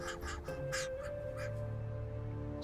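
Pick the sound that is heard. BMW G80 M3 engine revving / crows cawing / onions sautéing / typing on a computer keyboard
crows cawing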